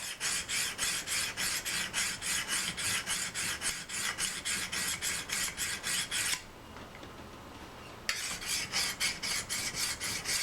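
A hunting knife edge is drawn repeatedly across a sharpener, producing a close, steady rhythm of rasping strokes that pause briefly about two-thirds through and then resume.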